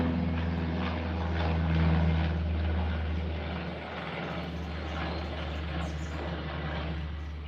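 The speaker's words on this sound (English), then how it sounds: "Watch the airplane." An airplane flying overhead: a steady, fairly loud propeller-engine drone that swells slightly and then holds, low and continuous, with no clear talking.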